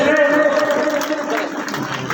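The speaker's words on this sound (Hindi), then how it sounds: "एक बार जोरदार तालियों से आप अभिवादन करें, जोरदार तालियों से।" A crowd at a Buddhist festival event in Mirzapur applauds to welcome the chief guest: loud, dense clapping that fades slightly toward the end, with a voice and tonal sound mixed in at the start.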